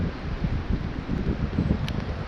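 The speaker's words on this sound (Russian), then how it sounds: "Вот такое вот ветрище, обалдеть, аж сносит" Strong wind in the spring taiga buffets the microphone with steady low rumbling gusts that rise and fall, tall shoreline trees swaying in a rainy gale, no voices present.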